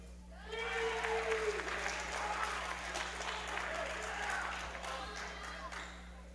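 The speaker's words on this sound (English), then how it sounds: "And an enthusiastic Dieterich crew cheering their squad." Enthusiastic Dieterich fans applauding and cheering their team at a girls' high school basketball game against St. Anthony, a full burst of clapping and shouts that swells quickly and stays loud for several seconds before easing slightly.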